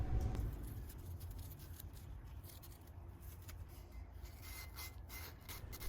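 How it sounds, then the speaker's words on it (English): A Scotch-Brite pad scrubs a half of a DeLorean brake caliper during an overhaul, making a continuous close rasping rub that stays even in loudness for several seconds, with no speech. "I should be able to finish this one off simply with a Scotch-Brite pad,"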